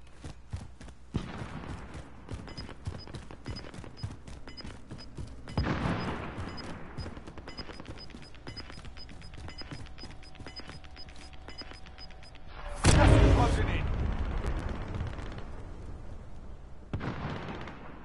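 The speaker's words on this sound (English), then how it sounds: "Somebody nearby is sniping." Gunfire in the video game Warzone, with a nearby sniper firing: sharp single shots recur through a steady, noisy game backdrop, with a louder burst near the end.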